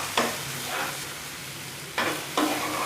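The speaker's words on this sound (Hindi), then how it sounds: "मैं डाल रही हूँ प्याज इसमें चॉप किया हुआ।" Chopped onions go into a hot frying pan and sizzle softly, with a few louder bursts of hiss as they are stirred in a home kitchen.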